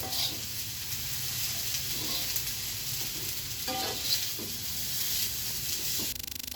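Fried rice stirred in a hot pan after soy sauce is added: a continuous close sizzle and hiss with repeated scraping, clattering stir strokes at an uneven rhythm.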